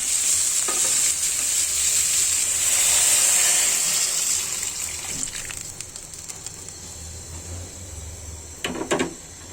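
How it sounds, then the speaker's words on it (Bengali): Water added to a pan of fish frying with spices for a pumpkin curry: a loud close sizzle and stirring that fades to quieter bubbling, then a few clattering knocks near the end. "পানি অ্যাড করে দিবে এখন"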